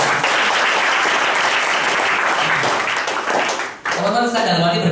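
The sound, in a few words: audience applause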